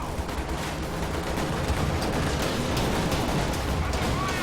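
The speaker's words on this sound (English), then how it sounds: "This gun's having a hard time firing over this hill here." Gun firing in a Company of Heroes 2 1v1 battle, heard as a dense, steady wall of combat noise with scattered sharp shot cracks throughout and no talking.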